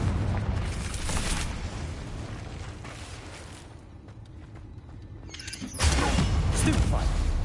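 Confringo blasting spell in the Hogwarts Legacy video game sets off heavy explosive rumbles, easing into a quieter mechanical creaking stretch before a second loud blast erupts near the end.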